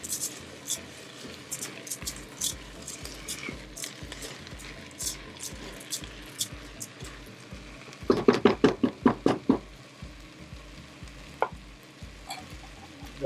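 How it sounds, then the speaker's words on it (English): Rice being stirred into a pot for plant-based Mexican rice, a repeated scraping and sizzling under a steady background hum, with a run of louder, sharper strokes near the middle. "Stir it in."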